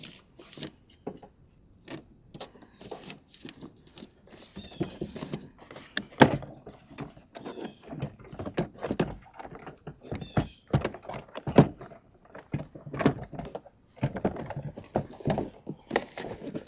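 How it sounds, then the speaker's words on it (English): Trim panel on a 2009 Toyota Highlander door being pressed back into place, a string of sharp plastic clicks, taps and thunks in irregular bursts, close up, with quieter shuffling handling noise between. "I'm going to get this door panel back on."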